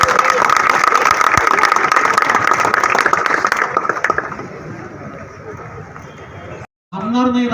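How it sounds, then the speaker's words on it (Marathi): An audience at a night cricket tournament claps loudly in a dense burst of applause with crowd babble that fades out after about four seconds, followed by a brief silence and then a voice speaking. "आपण त्यांच्यासाठी एकदा जोरदार टाळ्या वाजवून स्वागत करूया"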